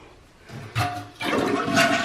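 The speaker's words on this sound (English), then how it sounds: "then I'm going to flush the toilet" A household toilet being flushed after a running-toilet repair, the rushing water surging in two broad waves that build to a loud, steady gush and swirl, close up with no talk.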